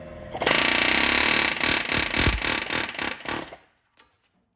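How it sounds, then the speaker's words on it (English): A loud pneumatic air hammer rattles continuously for about three seconds in close range, knocking a stuck wheel stud out of a Subaru hub flange, then cuts out, followed by a single faint knock. "So with the air hammer, we were able to knock the remainder of our stud out of our hub flange"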